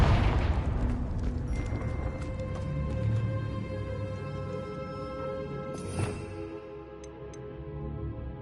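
Bombarda and Confringo spell explosions in the video game Hogwarts Legacy, a loud booming blast opening and fading into a rumbling tail, with a sharper crack later amid ringing magical tones.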